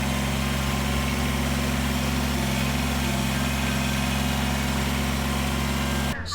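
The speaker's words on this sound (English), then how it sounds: "So behind me is our 2018 Kubota BX2380 tractor." A 2018 Kubota BX2380 compact tractor engine idles nearby with a steady, even drone that holds constant throughout, ending abruptly just before the close.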